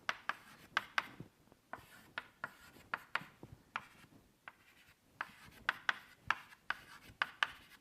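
Chalk writing decimal expansions on a blackboard: quiet, close tapping and scratching strokes in irregular quick clusters with short pauses, no talking.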